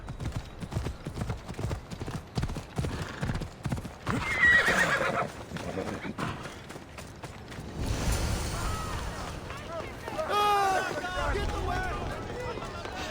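Horse hooves clip-clop in a steady trotting rhythm with several whinnies and neighs in the Assassin's Creed Odyssey video game, loud and close, mixed with game ambience and some speech.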